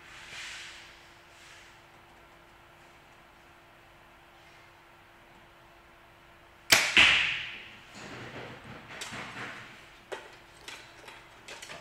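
Compound bow, a 2022 Bowtech SR350, firing an arrow at a distant target, a sharp loud snap of release followed by a ringing decay, then scattered faint knocks and rattles from the shooter's gear.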